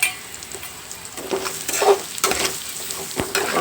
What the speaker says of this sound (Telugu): అలాగా మనం ఆయిల్లో వేపుకోవాలి.